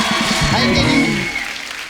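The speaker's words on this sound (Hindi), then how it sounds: "जोरदार ताली हो जाए" An audience claps in a steady burst that tapers off toward the end, with voices talking over the applause.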